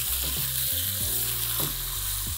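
Chopped onion and tomato sizzle steadily in a pan over a high flame, with scraping stirring strokes repeating underneath and no voices.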